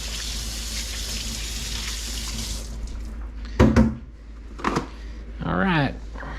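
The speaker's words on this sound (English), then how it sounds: "let's go wash your hands. Quick little wash off." Hands washed under a running kitchen tap during chicken prep: a steady rush of water for about three seconds, then it stops, followed by a few brief close splashes and rubbing sounds and a short voice.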